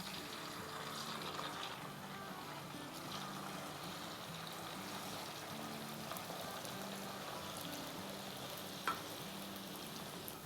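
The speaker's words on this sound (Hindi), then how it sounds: "अब तेल गर्म हो गया है, तब इसको हम फ्राई करेंगे।" Boiled noodles frying in hot oil in a home kitchen, a faint, continuous sizzle and crackle that stays even for the whole stretch, with one brief clink near the end.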